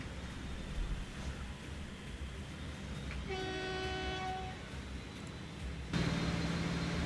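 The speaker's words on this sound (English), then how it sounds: "And these high-speed trains, I mean, this one's high speed, but I mean, it's only high speed." A high-speed train runs along the track in the game Transport Fever, a steady rumbling rush with a sustained horn tone sounding midway and another tone starting near the end.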